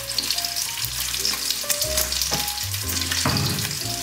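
Bacon frying in a pan, a loud continuous crackling sizzle with dense popping spatter close up, alone without talk.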